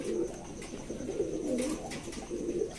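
Pigeons coo in soft, throaty repeated calls close by at a home pigeon loft, the burbling coos overlapping continuously with faint fluttering and rustling in the background.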